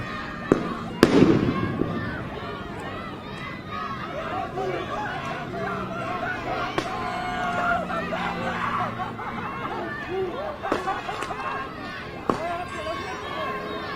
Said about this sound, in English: That's tear gas, that first one.